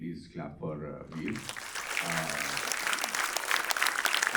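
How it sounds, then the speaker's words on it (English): Someone speaks briefly to a film-screening audience in Dubai, then a dense wave of close applause swells and holds steady to the end. "so please clap for Veer"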